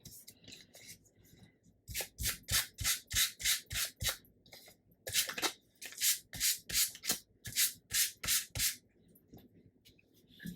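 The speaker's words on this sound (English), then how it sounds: "And do a bit of sanding." Sandpaper rubbed over a paper journal tag in two runs of quick, rhythmic back-and-forth strokes, close and crisp, separated by a short pause.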